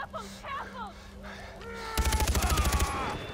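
Rapid automatic gunfire in Far Cry 4, a loud burst of about a dozen quick shots after quieter game sounds and chirping, with a voice speaking.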